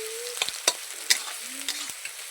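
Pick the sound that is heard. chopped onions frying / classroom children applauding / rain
chopped onions frying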